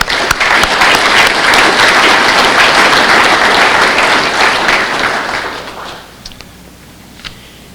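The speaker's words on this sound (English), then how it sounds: "please give a round of applause for Mr." Audience applause at a ribbon cutting ceremony for a regional criminal justice training center at Golden West College, loud and sustained for about five seconds before fading into scattered claps.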